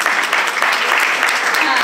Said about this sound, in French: On peut l'applaudir déjà.